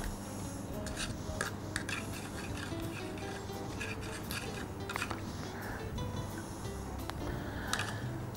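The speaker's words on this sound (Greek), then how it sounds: "τώρα ανακατεύω μέσα στο λεμόνι τη μουστάδα που έχω κρατήσει" Mustard being stirred into lemon juice in a bowl, a steady close scraping and rubbing of a utensil with soft clinks, continuous and fairly quiet throughout.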